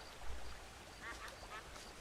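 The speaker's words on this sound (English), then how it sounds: "I love the ducks." Ducks quack faintly in Red Dead Redemption, a couple of soft quacks over a low outdoor game ambience with no talk.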